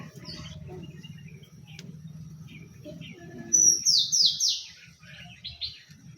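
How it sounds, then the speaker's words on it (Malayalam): Bright bird chirps break out in a quick series of sharp, descending tweets, close and loud, over a low hum of background murmur. "നിറയെ കിളികളുണ്ട്"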